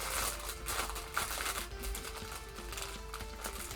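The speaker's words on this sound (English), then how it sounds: "Ooh, the sound of plastic rustling." Plastic parts rustling and crinkling while being sorted during a model kit build, a steady busy crackle with faint clicks and taps, fairly close and continuous throughout.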